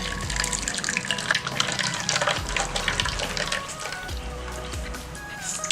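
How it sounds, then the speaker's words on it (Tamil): Freshly blended coconut milk being strained in a kitchen, a steady watery pouring and trickling with soft squishing as the pulp is pressed, close and fairly loud with no talking. "இப்போ இதை வடிகட்டி எடுத்து வச்சுக்கலாம்."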